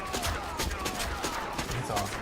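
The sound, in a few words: rifle gunshots in Mortal Kombat 11 video game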